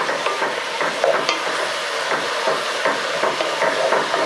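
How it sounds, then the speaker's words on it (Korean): Seaweed is stir-fried with soy sauce in a pot for Korean beef seaweed soup, a steady close sizzle and hiss with scraping stirring throughout and no talking. "요렇게 해서 미역을 약간만 볶아주시면 미역이 굉장히 부드러워져요"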